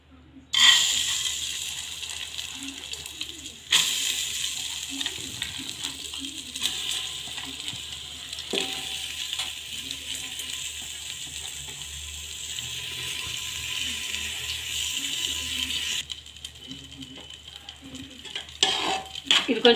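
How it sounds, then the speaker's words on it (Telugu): Washed dal lentils fry in hot ghee with a steady, crackling sizzle that runs for most of the stretch, broken by occasional stirring and scraping in the pan. "ఇందులో మనం కడిగి పెట్టుకున్న ఈ పప్పును కూడా వేసి ఫ్రై చేద్దాం."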